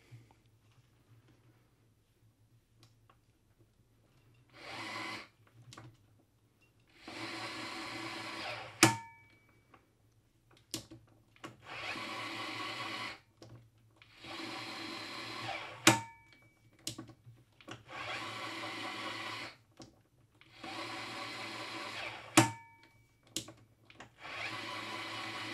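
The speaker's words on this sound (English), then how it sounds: "I've got the electric tool. I can just put it into the rundown adapter." An electric tool runs inside the rundown adapter of an LTT torque analyzer, with about six separate one-second whirring runs, each ending in a sharp click, spaced by quiet pauses.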